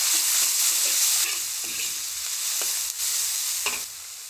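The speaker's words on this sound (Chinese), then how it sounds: "粉丝下去炒开炒散" Glass noodles are tossed and stir-fried in a hot wok with pre-cooked ingredients, giving a loud, steady sizzle broken by several sharp scrapes and clanks of the spatula against the pan.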